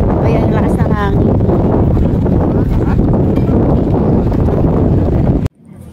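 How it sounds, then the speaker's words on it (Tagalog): Loud, steady wind at Monte Maria in Batangas City buffets the microphone with a constant roar, voices faintly audible underneath, cutting off abruptly near the end. "Ayan, lakas ng hangin."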